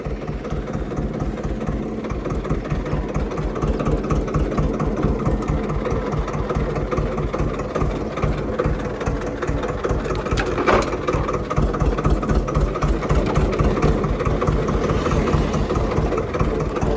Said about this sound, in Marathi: ट्रॅक्टरचा घेर लय परेशान करतोय पाहिला